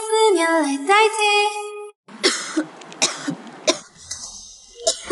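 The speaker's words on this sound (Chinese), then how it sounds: "他最近有点感冒，有点咳嗽" A person with a cold coughs several times in short, harsh bursts mixed with throat clearing, close by, after a sustained tonal sound at the start.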